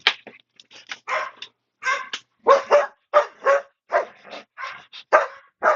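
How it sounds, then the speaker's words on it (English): A dog barks repeatedly and close up, a quick series of sharp, loud barks in irregular bursts with short silent gaps and no talk. "he's quite good at barking when he wants to bark"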